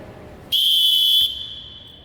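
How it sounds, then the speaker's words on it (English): A referee's whistle in a flag football game gives one sharp, loud blast of about three-quarters of a second, and a fainter tone lingers after the main burst. "the whistle is blown by whoever, let's say he's assigned to a quarterback"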